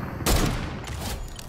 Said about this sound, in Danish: Og soloerne begynder at skyde på hinanden.